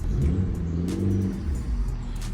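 A cheap used car bought at auction revs its engine while being put into reverse, a steady close rumbling drone with rising and falling revs throughout, no talking.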